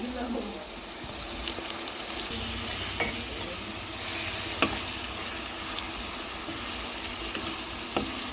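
Ginger garlic paste fried for a fish curry, a broad, continuous sizzle with a few sharp spatula taps against the pan, heard up close.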